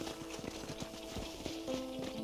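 Horse hooves clip-clopping in the Red Dead Redemption video game, a steady galloping rhythm of repeated hoof strikes heard close, under a bed of game ambience and tonal background music.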